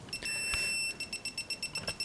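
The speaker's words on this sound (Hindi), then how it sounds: "अभी ये बहुत ज़्यादा बीप कर रही है क्योंकि इसके आगे मैं मौजूद हूँ" Car parking assistant sensor beeping rapidly, a steady continuous tone breaking into a quick regular series of short beeps, close and clear with no talking.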